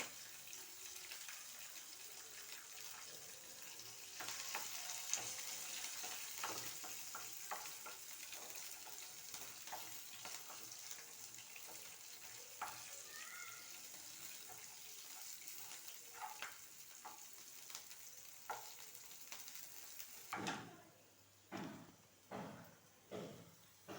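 Garlic and ginger frying in a pan for spinach chutney, a steady faint sizzle with soft scraping stirs, ending in several louder rhythmic scrapes of a spatula against the pan.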